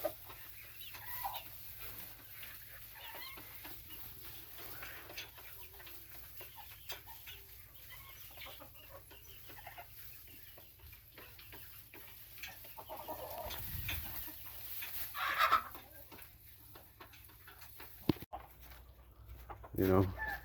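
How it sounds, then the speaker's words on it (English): Laying hens in a chicken barn, clucking softly and fairly constantly at moderate distance, with a louder burst of fowl calls near the end and a faint voice in the background. "this is the laying chicken barn."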